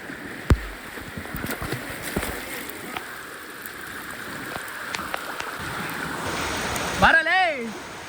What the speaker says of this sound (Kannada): ಫುಲ್ಲು ಮಳೆ ಬರ್ತೈತೆ.